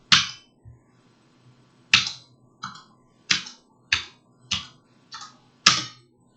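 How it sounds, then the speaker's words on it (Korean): Computer keyboard keys pressed one at a time, about eight sharp, crisp clicks spaced roughly half a second apart, close and distinct against near silence. "키보드가 눌린 것도 감지를 해요 얘는."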